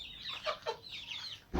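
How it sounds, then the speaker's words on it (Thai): Chickens cluck repeatedly at a rural farmhouse in Thailand, a flock of hens giving several nearby bursts of clucking with short gaps, ending in a louder, closer squawk. "มาไก่หลายแท้เพิ่นเลี้ยงไก่หลายแท้"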